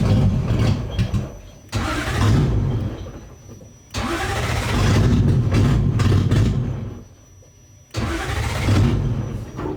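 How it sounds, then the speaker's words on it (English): A Toyota 1UZ-FE car engine cranks and catches three times in succession, each start rising into a loud, close rumble before cutting out, with brief quieter gaps between attempts. "We're gonna start the engine and we're just gonna let it heat up, reach operating temperature"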